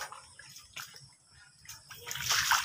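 Water overflowing and splashing from flooded post holes at a house building site: faint, irregular splashes and trickling that build louder toward the end, with a voice speaking quietly at times.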